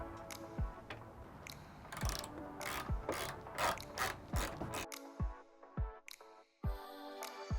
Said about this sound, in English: these are two 10mm bolts, so we're going to take a ratchet and undo these